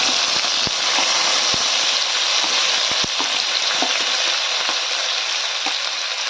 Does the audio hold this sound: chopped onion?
yes